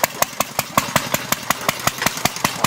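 A lawn mower engine running with a rapid, regular chugging pulse, close and fairly loud, its sharp firing beats repeating steadily with no voices.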